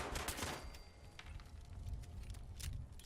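Rapid bursts of gunfire in Fallout 76 rattle at a hostile Protectron robot, a dense clattering volley at the start thinning into scattered shots over a constant low rumble.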